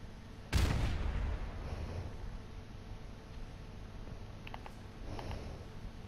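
A grenade detonating in Modern Warfare Remastered, one sharp, loud blast early on that decays into a lingering rumble, followed by faint scattered clicks.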